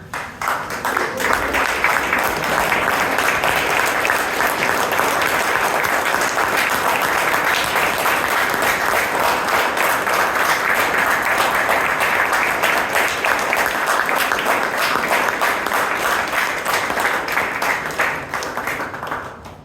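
An audience rises for a standing ovation at a Toastmasters club meeting in Bangalore: dense, sustained clapping fills the room at full volume for nearly twenty seconds, with no talk, before easing off at the very end.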